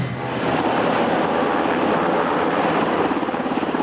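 Steady, loud military rescue helicopter rotor and engine roar over San Francisco Bay, continuous throughout with a slight rhythmic pulsing of the blades near the end.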